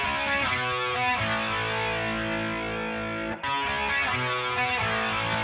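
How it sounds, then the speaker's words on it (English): A distorted synth arpeggio repeats its bright notes in a steady pattern, washed in reverb so the notes blur together, with a brief gap partway through. "I'm gonna put some reverb on this main ARP here"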